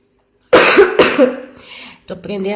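Two harsh, close coughs in quick succession, followed by a rough throat-clearing sound and a brief voiced utterance.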